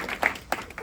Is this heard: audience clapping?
yes